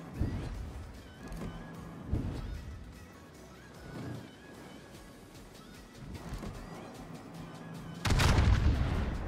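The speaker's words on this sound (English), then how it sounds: "That was a really good salvo." Naval gun salvos booming in World of Warships as the battleship St. Vincent fires, several deep thuds spaced through the stretch and a louder, heavier blast closing it out.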